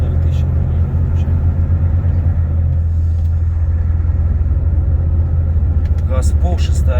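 Volvo FH 540 truck engine at full throttle in sixth gear, crawling on a snowy road with one tire chain fitted: a loud, steady low diesel drone filling the whole stretch, with faint voices in the cab.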